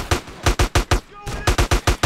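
Automatic gunfire in the video game GTA San Andreas: loud, close bursts of shots in a steady rapid rhythm, briefly pausing mid-clip before resuming, with no talking.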